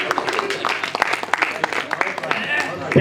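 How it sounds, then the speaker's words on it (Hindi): An audience claps in a burst of applause at a Hindi poetry recital, mixed with a voice speaking loudly over the clapping. "अपने लिए ताली बजाइए"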